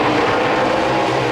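Race car engines rumbling on a racetrack, a dense, loud, continuous roar of several engines with no clear gaps.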